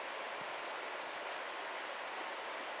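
A small 3000W gas stove burns in sub-zero cold, producing a steady, even roaring hiss that holds at constant loudness throughout, with no voices.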